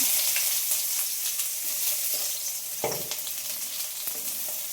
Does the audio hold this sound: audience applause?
no